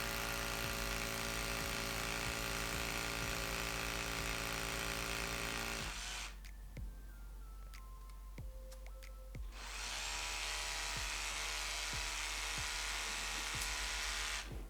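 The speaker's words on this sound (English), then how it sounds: "Make sure you've got it on the rotating chisel function." A hammer drill on rotating chisel mode bores into brick or concrete to fit an anchor, with a loud, steady, gritty grinding that cuts out for a few seconds mid-clip and then resumes.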